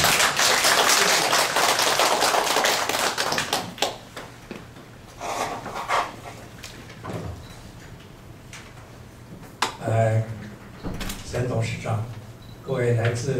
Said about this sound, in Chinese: 我们现在在热烈掌声欢迎张先生